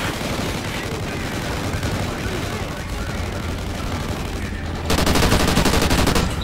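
Gunfire in the video game Call of Duty Ghosts, with continuous rapid automatic bursts and explosions packed into a loud, dense barrage that grows heavier near the end, with a voice talking over it.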